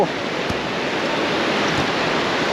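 Sea waves break on the beach at Tel Aviv, Israel, a steady loud wash of surf with wind noise throughout.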